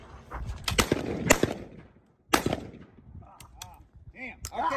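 Shotguns fire at clay targets during nighttime trapshooting games at a state shoot, with several loud, sharp reports and echoing tails heard nearby, followed by quieter clinks and voices in the background.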